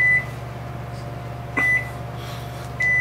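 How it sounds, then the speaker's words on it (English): A microwave oven hums steadily while running with a xenon-mercury plasma globe inside, with short electronic beeps at the start, middle and end and no talking. "Of all the shit to put in your microwave oven"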